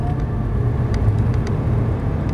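A Nissan GT-R drives hard on the Dreux race circuit after a shift into fourth, its engine a steady, loud, close drone with faint ticking and whirring on top. No one speaks.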